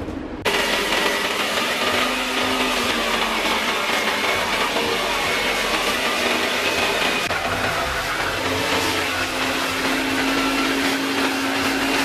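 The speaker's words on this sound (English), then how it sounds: "This stuff works really freaking good for cutting really anything with a jigsaw." A jigsaw cuts through thick foam, about three inches deep, for a car's front splitter. The blade makes a loud, continuous, buzzing whine from start to finish, close to the microphone, with no talking.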